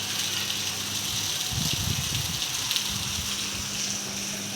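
Heavy morning rain driven by wind makes a dense, continuous hiss with a low rumbling of gusts, steady and fairly loud throughout, with no one speaking.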